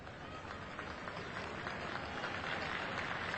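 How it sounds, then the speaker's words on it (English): A stadium crowd at a 1992 Newcastle versus Great Britain rugby league match gives steady, distant applause during a substitution, swelling slightly as it goes on. "He gets a sympathetic round of applause"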